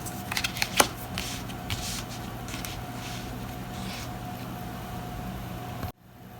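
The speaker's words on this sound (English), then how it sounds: "you'll shuffle your monument deck and reveal 2 of them" A deck of cards for the Res Arcana board game being shuffled, a brief burst of riffling and snapping at the start followed by a steady soft rustle under low background hum.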